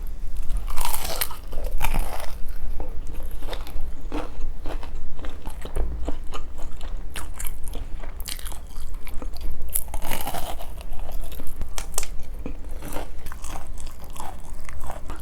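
Crunchy bites into BBQ Golden Olive fried chicken, close and loud, with repeated sharp crackling crunches and chewing in an uneven rhythm, no talking.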